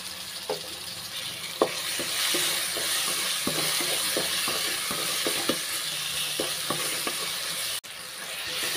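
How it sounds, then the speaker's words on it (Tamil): Chopped tomatoes sautéing with curry leaves and asafoetida in a pan, a constant bright sizzle under repeated short scraping strokes of a ladle, close up, ending with a sudden tap, no voices. "பாருங்கள், தக்காளி எல்லாமே நல்லா வதங்கிருச்சு."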